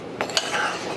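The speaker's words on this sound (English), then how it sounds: "I'm going to mix this together" A utensil clinks and scrapes against a mixing bowl while ingredients for carrot cake cookies are stirred together, with two or three light metallic taps over a soft, close, continuous scraping.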